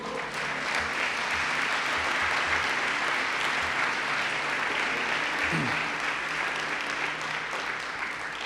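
A large church congregation applauds loudly and continuously for several seconds during a service, a thick, even roar of clapping hands filling the room.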